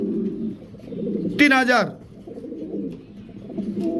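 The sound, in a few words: cooing of Red Tiger Mundian pigeons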